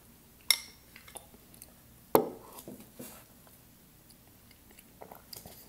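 Spoon clinks against a bowl of Greek yogurt with peanut butter and frozen blueberries, then close, quiet chewing follows. Sharp taps and crunches ring out singly, with soft pauses between them.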